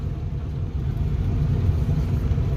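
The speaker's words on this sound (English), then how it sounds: "So I will park the truck here." A pickup truck drives across a ranch, its engine a close, steady low rumble that swells slightly as it moves along, with no talking.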